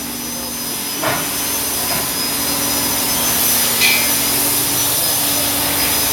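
Factory and aftermarket wheels being blasted to strip them down: a loud, continuous roaring hiss of blasting media that stays steady throughout, with faint scraping bursts.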